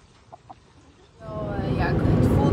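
A new rooster clucks and calls close by, first two short faint clucks, then a louder, sustained run of vocalizing with bird chatter over a steady background hiss.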